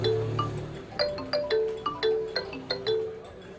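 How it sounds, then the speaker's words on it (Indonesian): A phone ringtone plays nearby in a short film scene, a repeating melodic chime pattern of bright tones sounding steadily several times with no talking. "Telepon."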